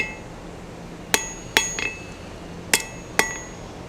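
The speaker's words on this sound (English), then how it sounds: "I'll put it back over the edge of the anvil, give it another tap down, a couple more from the back, and close that up." Hammer taps on a hot steel S hook held over the edge of an anvil at a forge, four sharp ringing strikes in two spaced pairs, close and clear with a short metallic ring after each.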